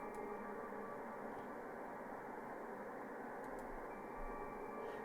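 A steady, dense droning noise texture from a drone machine rack, with a hissy, static-like character, unchanging and continuous throughout with no talking.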